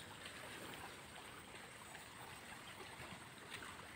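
Water from a natural spring running beside a river, a steady faint broadband trickle and gurgle continuing evenly throughout with no voices.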